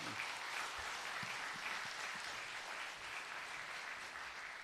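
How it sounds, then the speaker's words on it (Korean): A church congregation applauds to welcome the pastor at a Wednesday evening service, a continuous patter of many hands clapping at moderate loudness for several seconds. "박수로 모시겠습니다."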